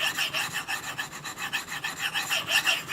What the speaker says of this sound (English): I'm going to go back and sharpen it a little bit more.